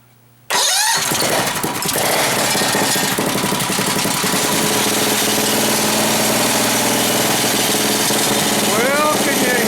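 Goofy Cart II go-kart engine fires up and revs loud and close, a steady rough rumble with a rattling, jackhammer-like vibration throughout, given a little gas with no talk.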